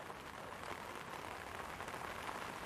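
Heavy rain pours steadily at Manchester Airport, a dense continuous hiss of drops hitting surfaces, fairly distant and even throughout, with no voices.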